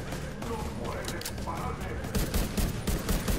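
Dense gunfire in the video game Tom Clancy's The Division 2, a steady stream of shots over busy game sound, with talk mixed in and heavier bursts toward the end.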